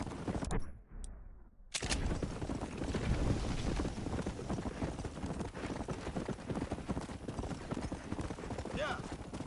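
Hooves of a horse in a Red Dead Redemption game clatter at a gallop amid bursts of noise, after a brief gap near the start, with someone shouting excitedly over it.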